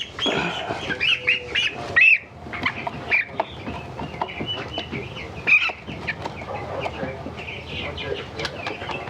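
Two-week-old organic broiler chickens cluck and squawk close by, a busy overlapping chorus of varied calls that carries on throughout with no pause.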